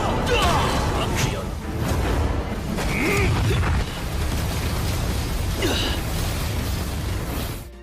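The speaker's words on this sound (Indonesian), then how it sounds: "Ledakan keras bergema." Loud, dense bursts and booms from a clash in an animated martial-arts fight, with swooshing impacts running continuously under the action for several seconds.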